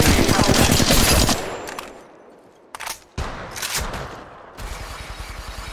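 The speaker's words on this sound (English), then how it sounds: "Opening fire" Apex Legends gunfire in bursts of automatic rapid shots, loud and close, with a lull in the middle before more firing resumes.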